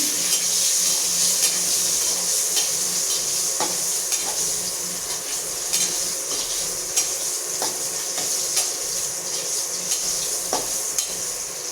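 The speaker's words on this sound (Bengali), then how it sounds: "ডিমগুলো ভাজা ভাজা হয়ে গেছে" Eggs frying in hot oil with salt and turmeric, a loud steady sizzle close up with scattered metallic clinks and stirring scrapes from a utensil in the pan.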